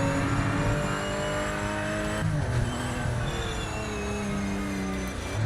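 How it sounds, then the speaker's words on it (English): Race car engine in Project Motor Racing, a loud, steady harmonic drone that shifts pitch partway through as it eases down through gears, with faint tire noise underneath. "Best off with a nice slow steady downshifts."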